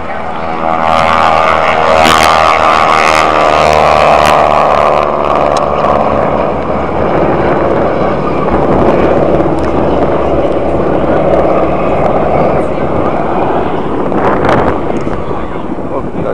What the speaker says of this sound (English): Got a couple airplanes taking off.